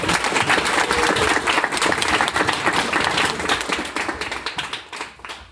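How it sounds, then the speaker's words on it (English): Audience applause for Jan, the founder of Women in Austin, dense and sustained clapping that tapers toward the end. "How about a round of applause for Jan, the founder of Women in Austin?"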